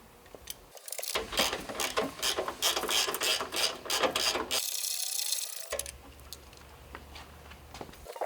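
A socket ratchet clicks rapidly in bursts while removing the front fasteners on a 2024 Harley-Davidson Road Glide, close and crisp, pausing briefly before another stretch of fast ratcheting and then a quieter tail.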